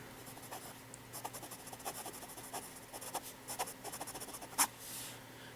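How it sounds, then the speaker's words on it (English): Jinhao 911 fountain pen with an ultra fine nib writing on paper, quiet close scratchy strokes in short irregular bursts with brief pauses, one sharper tap near the end. "I can do fast writing, reverse writing, and ultra fine"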